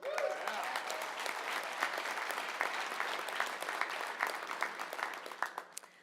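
Applause from the audience at a young retailer awards ceremony, steady dense clapping across the room that holds for several seconds and then tapers off near the end.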